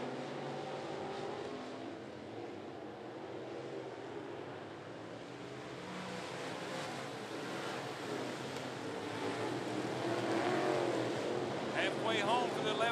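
Modified race cars lapping at 411 Motor Speedway, a distant droning engine roar that swells and fades as the field passes, with an announcer talking over it throughout.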